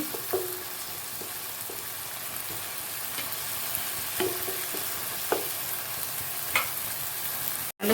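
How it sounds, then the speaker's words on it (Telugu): Onion, tomato and ginger garlic paste frying in a pan for a brinjal fry, a steady close sizzle with a few sharp stirring clinks and scrapes at intervals, no talking. "ఫ్రై అవుతూ ఉండగానే ఒక స్పూన్ అయితే అల్లం వెల్లుల్లి పేస్ట్ వేయాలి"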